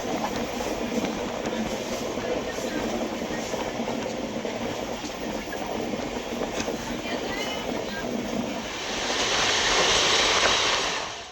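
MGR Chennai Superfast Express 12163 rolls between Tadipatri and Renigunta, a steady broadband rumble of carriages with faint wheel clatter, rising slightly louder near the end.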